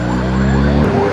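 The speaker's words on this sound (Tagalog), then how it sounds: "Tulungan natin itong ambulansya na to." An ambulance siren wails loud and close on a road in Kabuyaw, Laguna, a continuous sweeping tone with a steady engine rumble underneath.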